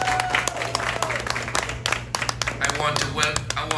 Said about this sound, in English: I want to give her a special round of applause.